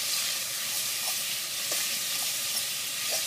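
Ingredients frying in olive oil for New England clam chowder crackle with a steady broadband sizzle while being stirred, with a few faint scraping taps from the spoon, close and continuous with no talk.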